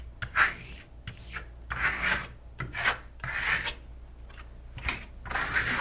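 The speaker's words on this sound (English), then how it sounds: "So he's putting it on and then scraping it off." Trowel dragged hard across freshly applied Shimmer Stone plaster on a wall, worked wet on wet; close, repeated rasping scrape strokes with short pauses between them, no voices.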